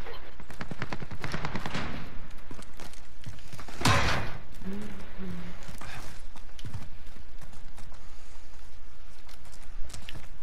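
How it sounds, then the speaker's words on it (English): Gunfire in the video game Call of Duty Warzone, a run of sharp shots and bursts, one loud crack standing out, with quieter distant pops around it and people talking in between. "I heard gunshots over there."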